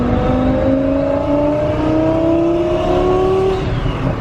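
A Mercedes S600 with a V12 engine revs and pulls hard, its steady loud drone rising smoothly in pitch as the car accelerates, heard from inside the cabin with no talk over it.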